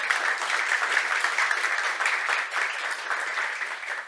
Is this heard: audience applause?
yes